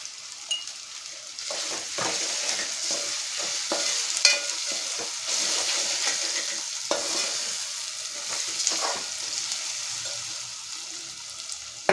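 Onions frying with a clove-and-cinnamon spice paste for a chana dal and potato curry, a steady close sizzle under repeated scraping stirs and occasional light clinks of a spoon on the pan.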